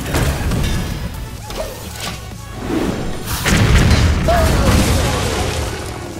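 Heavy booming impacts and crashing thuds from a missile launcher blast in Hearthstone, a card game, landing in a cluster with a louder surge partway through, layered over faint background talk.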